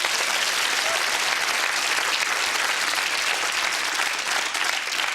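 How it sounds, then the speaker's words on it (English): Sustained applause from a studio audience on a 1997 television show, a thick, even roar of clapping hands that stays loud and unbroken from start to finish. "Round of applause for Ruth, yes"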